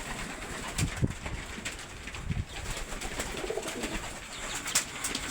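Racing pigeons inside a loft coo softly and repeatedly, a faint, steady murmur of low calls with occasional light rustles.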